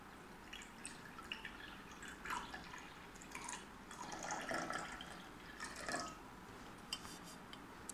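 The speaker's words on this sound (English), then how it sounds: "So I'm just gonna pour the water" Water is poured into a vessel during a candle reading, a faint, close trickle with light splashy drips that swell in a few short bursts against a quiet room.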